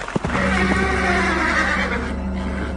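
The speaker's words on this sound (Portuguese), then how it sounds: "Olhei e vi um cavalo amarelo." A horse lets out a loud, drawn-out whinny with wavering pitch, close and clear, trailing off over a few seconds.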